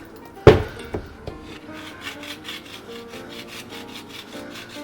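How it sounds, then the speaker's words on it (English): Beaten eggs whisked in a bowl, a sharp knock at the start then a quick, steady rhythmic scraping of the whisk against the bowl, close and fairly loud, with no talking. "Beat those and whisk them in."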